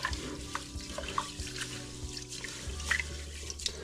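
Rice being rinsed by hand in water for homemade rice wine: close, continuous sloshing and swishing of water with small splashes and drips, steady throughout with no talking.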